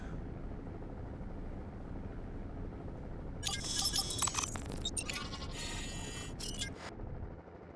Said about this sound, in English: This helicopter's currently flying above SNB target location.